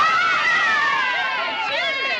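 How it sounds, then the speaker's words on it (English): Excited children cheering and shouting together in a continuous, loud, high-pitched crowd roar, with overlapping voices and calls close by. "Do you hear the cheering?"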